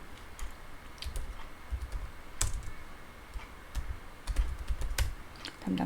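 Keys tapped on a computer keyboard during spreadsheet data entry, a soft irregular patter of clicks close by with occasional louder strikes, and no talking.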